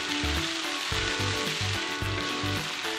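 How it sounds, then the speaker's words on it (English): Steady, loud sizzling of green beans and chicken frying in oil in a hot pan, with occasional stirring clatter over the continuous crackle. "heat some oil in a pan. Then add green beans. Add chicken."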